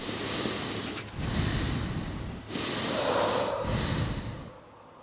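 Slow, deep breathing close up: long airy inhales and exhales with brief pauses between them, loud and steady, with no talking.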